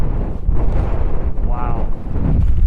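Strong gusts buffet the microphone near a lake in the Sleeping Bear Dunes during a winter storm hike, heavy low rumbling wind noise throughout with a brief voice cutting through.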